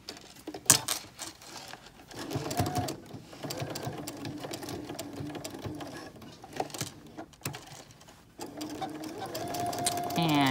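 A sewing machine stitches across a fabric face mask in quick whirring bursts broken by short pauses, recorded up close and fairly quiet.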